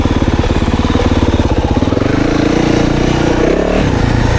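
A 2024 Yamaha YZ450FX dirt bike engine in first gear chugs in a rapid, loud, steady putter up close while crawling along a woods ride, then shifts into a smoother, rising drone.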